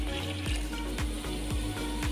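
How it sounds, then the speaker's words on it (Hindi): Water poured into yogurt in a grinder jar for a masoor dal curry, a steady splashing gush with a regular mechanical pulsing beneath it, close and moderately loud, with no talking. "दही डालेंगे और साथ ही 1 गिलास के करीब मैं पानी डाल दूँगी"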